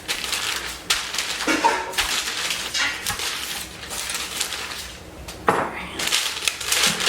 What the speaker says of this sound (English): Now I'm gonna roll out mine for the top of the pot pie.